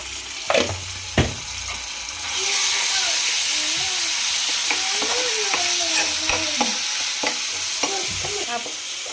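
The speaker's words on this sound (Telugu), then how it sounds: "అల్లం పచ్చివాసన పోయేదాకా వేగించుకోవాలి" Ginger paste and turmeric fry in a pan with a steady bright sizzle and hiss that rises after a couple of sharp clinks, with stirring scrapes and utensil taps over the sizzle, close by.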